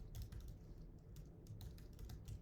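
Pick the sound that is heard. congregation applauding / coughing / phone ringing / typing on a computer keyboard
typing on a computer keyboard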